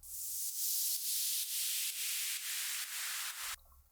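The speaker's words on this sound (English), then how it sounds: "we have a 8-bar downlifter, just simple noise downlifter." A simple 8-bar white noise downlifter for a progressive house drop in FL Studio rushes as a bright hiss pulsing with the beat, thinning toward the top as it sweeps, before stopping suddenly.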